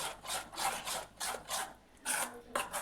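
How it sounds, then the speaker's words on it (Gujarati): A spoon working thick batter in a bowl, with rhythmic rasping stirs repeating about twice a second, close and fairly soft, with no voices. "હવે આપણે બધી વસ્તુને સારી રીતે મિક્સ કરી દઈશું."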